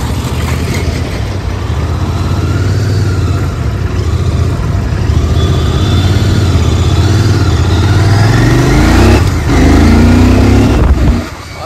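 A 2024 Royal Enfield Continental GT 650 motorcycle is recorded on board while riding. Its loud engine climbs in pitch through acceleration under heavy wind rush, with a gear change near the end.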